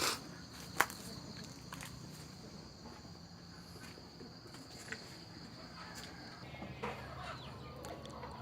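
Fighting cocks cluck in a backyard alongside a duck-egg farm, giving scattered, fairly faint calls over a low, steady background hum, with no talking.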